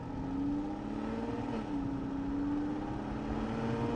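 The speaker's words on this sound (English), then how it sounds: "And yeah, just easy, smooth takeoff." A 2015 Aston Martin Vanquish pulls away in a smooth, easy takeoff, its engine tone rising steadily and then settling with a brief dip as it climbs again, heard from inside at a steady moderate level.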